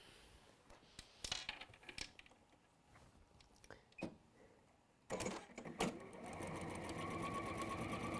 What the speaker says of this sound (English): And then top stitch down either side.